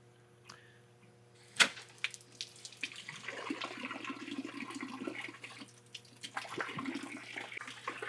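Water splashes and spills from a hose pulled off the DI inlet of a water purification system, starting with a sharp click and then running as a steady, soft splatter for several seconds.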